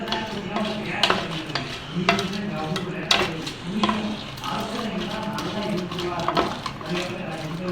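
Crab kulambu is stirred in a pan, with repeated spoon scrapes and clinks over a low simmering bubble, while a voice speaks intermittently.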